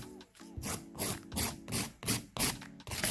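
A handheld file rasps back and forth across gel nails in quick, even strokes, about a dozen close, steady scrapes with brief gaps between them, with no talking.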